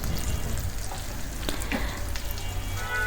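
Ground spices for egg korma, coriander and cumin among them, sizzle and crackle steadily in a hot pan, a dense close frying hiss with a few soft stirring knocks.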